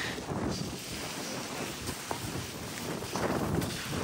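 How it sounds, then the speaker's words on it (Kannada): Strong wind at the Rani Jhari viewpoint buffets the microphone in a continuous loud roar, rising and falling in gusts, with no clear speech. "ಫುಲ್ ಫೋರ್ಸ್ ಅಲ್ಲಿ ಗಾಳಿ ಹೊರತಾಂಡು ಹೋಗ್ತು."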